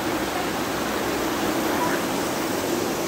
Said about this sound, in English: there's the waterfall here